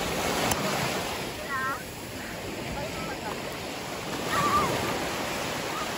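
Sea waves wash along a beach at a Turkish resort, a broad steady hiss of surf with gentle swells, while faint voices and occasional chirps sound in the background.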